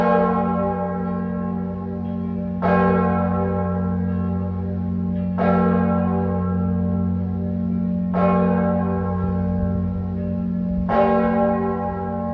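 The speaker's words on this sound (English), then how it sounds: "Lovely to hear the sound of the bells." A deep church tenor bell at the Cathedral of San Giusto in Trieste tolls slowly, about every two and a half seconds, each stroke ringing out and decaying over a steady low hum.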